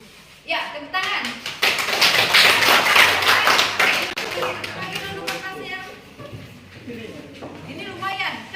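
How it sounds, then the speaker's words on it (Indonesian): A group of children clapping hands in a classroom, a dense burst of claps that starts abruptly and stays loud for several seconds before thinning out, with kids and an adult talking over it. "Ya, tepuk tangan."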